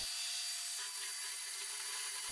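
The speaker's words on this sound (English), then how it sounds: "sand the flat areas here with the belt sander" Continuous harsh buzzing of a belt sander working across the flat areas of a catamaran hull, close and steady, with no pauses or voices.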